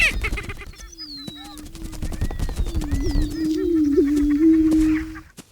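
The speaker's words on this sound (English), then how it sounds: "Fancy footwork and a bit of clucking." Prairie chickens in a grassland courtship display give rapid clucking, cackling calls and a sustained low booming tone, with loud close flurries of clicks and calls layered over one another throughout.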